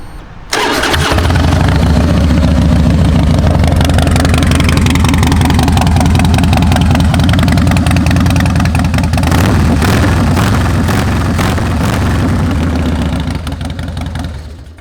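2004 Harley-Davidson Fatboy motorcycle engine starting and settling into a loud, close, steady idle, its low rumbling pulse continuing without talk.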